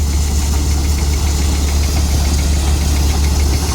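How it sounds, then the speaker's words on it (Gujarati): A Param thresher runs steadily while threshing whole mung beans, a loud continuous engine drone with knocking, rumbling vibration that stays even and close throughout, with no talking. "થ્રેસર ચાલુ હોય એનો।"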